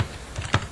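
Rapid keystrokes on a computer keyboard while entering an Excel formula, a short burst of clicky taps with one louder press near the end, heard alone without talk.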